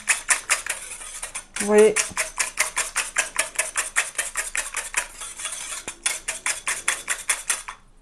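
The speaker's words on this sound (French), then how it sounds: "Donc, vous fouettez, vous mélangez bien comme il faut." A whisk beats a thick hair-care paste in a bowl with quick, regular clinking strokes, fast and rhythmic, close up, with a brief pause and a few words spoken.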